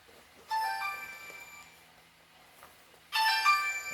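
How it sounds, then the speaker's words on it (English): A mobile phone rings twice, each ring a bright melodic chiming tone lasting a few seconds with a quieter gap between, fairly loud and close in an otherwise quiet room. "That's my phone."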